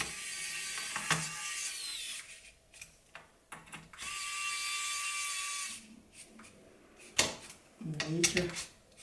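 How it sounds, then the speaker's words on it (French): A small screwdriver works on a PC build, giving intermittent clicks, ratcheting scrapes and small metallic handling noises, with a sustained whirring hum in the middle and sporadic bumps. "Petit tournevis."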